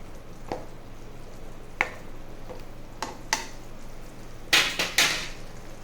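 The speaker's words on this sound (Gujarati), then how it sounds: "હવે આપણે આને મિક્સ કરીશું" Potatoes for Gujarati farali dum aloo being stirred and mixed in a pan, with soft scattered spoon scrapes and knocks over a low simmer, ending in a quick cluster of louder clatters.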